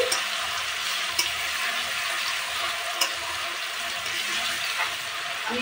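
Garlic paste fries in hot oil in a pan, giving a steady, moderately loud sizzle and hiss throughout, with a couple of sharp pops or clinks and no talking.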